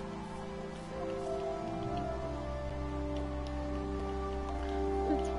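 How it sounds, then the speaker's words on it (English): Steady rain patters throughout in Minecraft, a dense continuous wash of drops over a low droning hum, with no voices. "It's raining"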